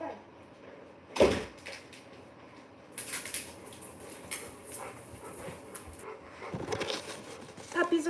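Puppies yip and whimper while scuffling and moving around indoors, with scattered bursts of barking and a door-like knock amid low background voices.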